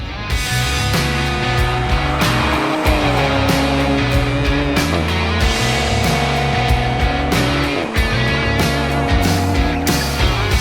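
A yellow 2019 Toyota Supra drives on small back-country roads on the way to a racing circuit, its engine loud and steady throughout, with clear gear shifts and the pitch rising and falling as it accelerates.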